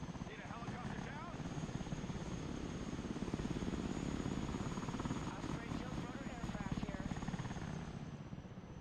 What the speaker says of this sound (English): Need a helicopter down?